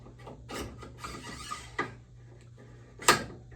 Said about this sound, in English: we are going to take our barrel nut wrench and carefully slide it into the action